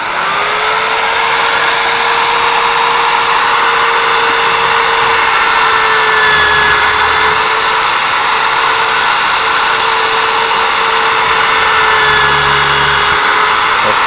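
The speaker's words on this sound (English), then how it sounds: "I'll be now drilling the small 3 millimeter hole." A drill bores a small 3 mm hole in a metal disc spoon blank, giving a steady whirring motor drone with a thin sustained whine that runs continuously and loudly without pause.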